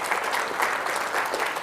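A church conference audience breaks into brief, full applause, a dense wash of many hands clapping together at close range.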